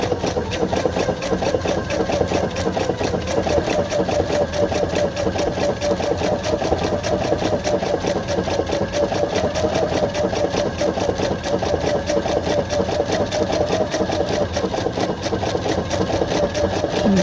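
Sewing machine stitching appliqué along a marked outline, a steady rapid mechanical chatter of the needle running continuously at close range without pause.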